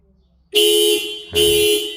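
Toyota Camry smart key car-finder alarm sounding from the car: two loud, close horn-like blasts, the first about half a second long and the second after a short gap, in an otherwise quiet space.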